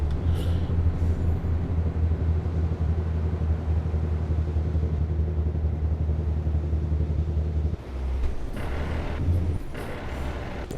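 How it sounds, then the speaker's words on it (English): A heavy truck's engine drones in a low, steady rumble as the exhaust brake slows it in American Truck Simulator, the tone shifting abruptly near the end with some clicking. "Ooh, gotta slow her down, slow her down, slow her down. Find that exhaust brake."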